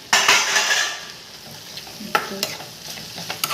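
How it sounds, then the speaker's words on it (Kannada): Spoon scraping and stirring roasted ingredients with karchikayi in a pan, a steady close sizzle with sharp metallic clinks near the end. "ಇದರಲ್ಲಿ ಚೆನ್ನಾಗಿ ಮಿಕ್ಸ್ ಮಾಡಿ"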